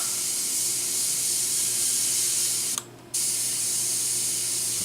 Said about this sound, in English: test spray just to make sure we're not going to put too much down.